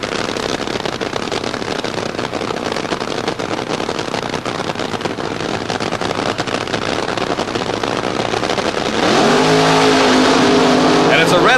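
A 1976 funny car drag race between two Monza-replica funny cars, one shutting off after a red-light start, with a loud continuous engine roar that swells louder near the end while a commentator talks over it.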